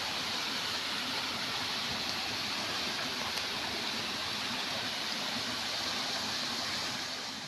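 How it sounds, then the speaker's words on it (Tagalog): A flowing stream outdoors, a steady broadband wash of running water that stays even and continuous throughout, with no voices. "Ito yung sapa."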